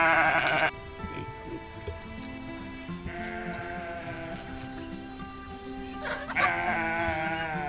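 Sheep bleat loudly and close by on a farm. Several drawn-out, wavering calls overlap across the stretch, with a sharp cry at the start and another near the end.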